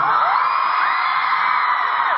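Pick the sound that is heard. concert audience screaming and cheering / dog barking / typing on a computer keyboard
concert audience screaming and cheering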